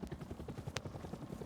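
Patrol helicopter circling a church in the video game Rust, its rotor producing a rapid, rhythmic low thumping at moderate distance, with a brief hissy burst in the middle; fairly faint and steady.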